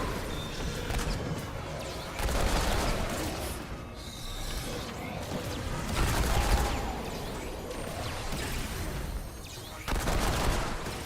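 Enemy gunfire in the shooter Remnant 2, heard as dense bursts of shots and mechanical clatter that swell repeatedly over a steady noisy game backdrop, loud and close.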